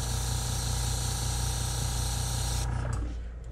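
An airbrush spraying thinned pink pearl paint onto a fishing lure, a steady close hiss with a rhythmic compressor pulse that cuts off near the end.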